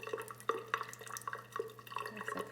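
Water carrying light tomato seeds is poured off the top layer of a container, giving soft, irregular dripping and trickling with small splashes and faint clinks, quiet and close.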